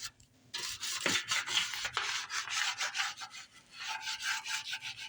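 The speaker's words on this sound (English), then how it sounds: "I'm going to go ahead and scrub the rest of this" Gas stove parts get scrubbed hard, a close, raspy back-and-forth rubbing in uneven strokes with a brief pause near the start, no talking.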